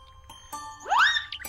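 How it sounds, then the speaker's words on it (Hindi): A doorbell rings at the front of a house, a bright electronic chime with a rising, warbling tone that swells briefly and fades, heard close and clear over quiet background with no talking. "बार बार घंटी बजाने के बाद भी घर से बाहर कोई नहीं निकलता"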